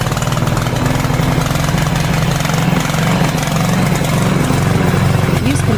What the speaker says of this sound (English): Use the button on the control panel to start the engine.